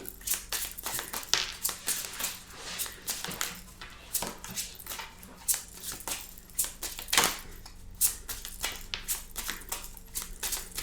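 A deck of tarot cards is shuffled by hand at close range, producing irregular soft slaps, flicks and riffling bursts that repeat for about ten seconds with no talking.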